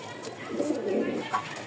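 Pigeons kept for flying coo softly, a low burbling call rising and falling for about a second at moderate distance.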